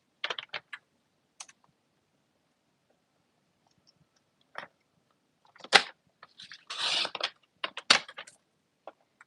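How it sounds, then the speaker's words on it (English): A paper trimmer slicing cardstock for a Paper Pumpkin craft project: a few scattered clicks and sharp slides, with one longer rasping cut near the middle, close and moderately loud against quiet surroundings. "I'm going to bring in my paper trimmer and trim this down."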